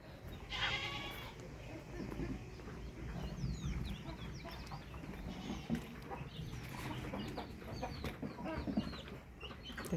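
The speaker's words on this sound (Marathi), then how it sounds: "बारक्या कोंबड्या येतात बरं का" Several layer hens cluck and chatter nearby in a busy yard, with goat-like bleats and a faint voice mixed in.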